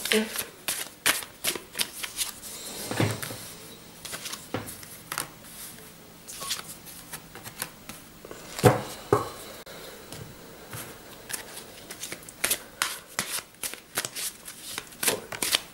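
Tarot cards shuffled by hand, a series of quick riffling bursts and soft slaps repeating irregularly up close, with a voice speaking quietly between them.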